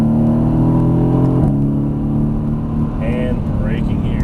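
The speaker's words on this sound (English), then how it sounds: "And squeezing hard on the throttle," A Mercedes-AMG GT S accelerates hard out of a corner on a Las Vegas racetrack, its engine droning loud and steady with rising harmonics, then a brief dip and gear change, heard up close from inside the car.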